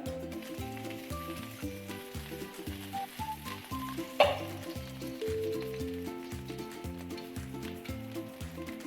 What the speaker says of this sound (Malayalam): പാൻ നന്നായിട്ട് ചൂടാകുമ്പോൾ 1 ടേബിൾ സ്പൂൺ നെയ്യ് ചേർത്ത് കൊടുക്കാം.